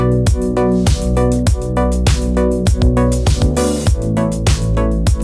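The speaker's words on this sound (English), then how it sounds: "this is a drum loop" Punchy drum loop with steady kicks and bright hits repeats in a tight rhythm alongside sustained tones of a song under production, loud and upfront with no voices.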